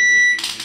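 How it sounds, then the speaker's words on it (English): Kitchen oven timer beeping while candy is made for an Easter treat: a steady electronic tone sounds alone for a moment, then cuts off into softer hissy background noise. "so our timer's going off"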